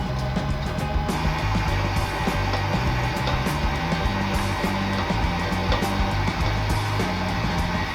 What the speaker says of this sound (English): Now I'm going to slow that down and bring my mixer to 2